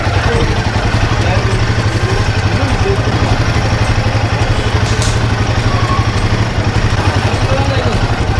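A motorcycle engine idles steadily up close in the old city lanes of Jodhpur, a low even thrum with a light mechanical clatter running throughout.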